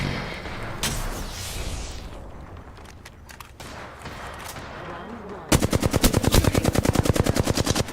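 Automatic weapon fire in the video game Apex Legends, starting as scattered shots and then breaking into a loud, rapid, evenly spaced burst over the last few seconds.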